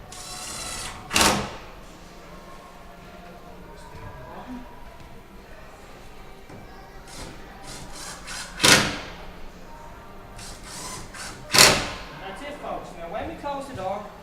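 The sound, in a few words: wooden door being closed after fitting hinges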